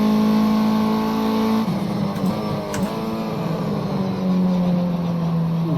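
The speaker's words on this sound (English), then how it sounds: "it sounds like the car has more to give" A race car engine in Project Cars 2 at Oulton Park holds a loud, sustained high-revving drone, dropping pitch with a gearshift partway through and then climbing steadily again, with no voices.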